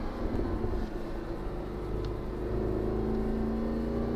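Mercedes SLS AMG engine accelerating under power on a race track at Atlanta Motorsports Park, a steady loud drone with a rising tonal whine as revs climb.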